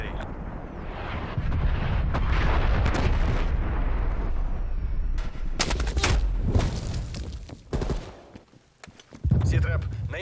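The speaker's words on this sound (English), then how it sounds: "Hostile artillery target detected. Net call, incoming artillery." Incoming artillery fire in the video game Call of Duty: Black Ops Cold War: a dense, loud barrage of rumbling booms and crackling blasts. It thins to a quieter stretch before another sharp burst.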